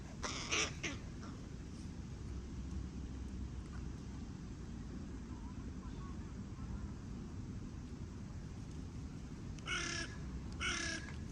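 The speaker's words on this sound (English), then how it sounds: "Now they're moving in a flock, the crows." Crows in a flock caw outdoors, a couple of harsh calls at the start and a pair of loud, close caws near the end over steady wind and low rumbling background noise.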